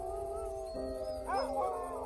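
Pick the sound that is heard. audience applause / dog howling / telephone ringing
dog howling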